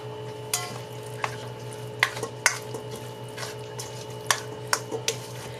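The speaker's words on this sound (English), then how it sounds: "we're going to stir this all together" A spoon stirs sloppy joe mix with tomato sauce in a pan, making a series of distinct scraping clinks spaced irregularly over a steady low hum.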